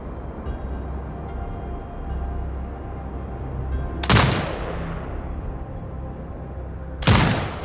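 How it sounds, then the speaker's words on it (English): Two sharp, loud turret shots about three seconds apart in Sniper Ghost Warrior Contracts 2, each trailing into a fading rumble over a steady low ambient hum. "Exit binocular mode and command the turret to fire."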